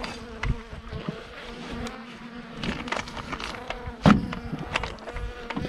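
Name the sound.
honeybees buzzing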